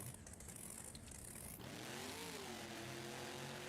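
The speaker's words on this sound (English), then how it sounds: "You can hear him revving that engine." A monster truck engine revs in the BeamNG racing game during a simulated Monster Jam stadium event in Anaheim. A faint hiss gives way to a rising, droning engine note that climbs and holds at moderate distance.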